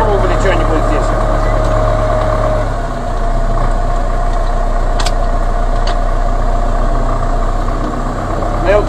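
Tractor engine driving into a farmyard with hay bales, a loud, steady low idling drone with a slight shift in pitch partway through and a few faint knocks, continuous throughout.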